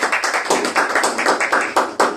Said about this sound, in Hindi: जोरदार तालियां पास्टर साहब